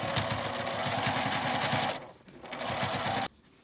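Sewing machine edge-stitching along a zipper pouch, a fast steady mechanical rattle running close and loud, pausing briefly, resuming, then stopping abruptly.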